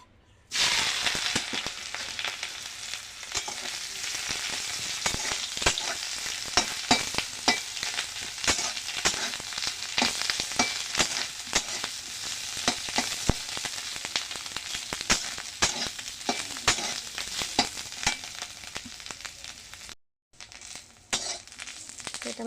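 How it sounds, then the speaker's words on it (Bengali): Mushrooms crackle and spit in hot oil in a wok, a dense, continuous frying sizzle with bursts of popping that runs for over twenty seconds before a brief stop, close up with no talking. "আমি কড়াইতে দিয়ে দিলাম তেল, তারপর এটাকে আগে ভেজে নেব।"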